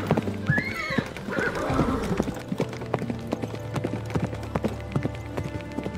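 Horses whinny loudly and then gallop with rapid, rhythmic clip-clop hoofbeats that carry on steadily under a faint background hum.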